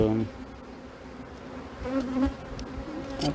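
Honey bees buzz around an open beehive at an apiary in a continuous close drone, with individual bees passing nearer and swelling in loudness now and then.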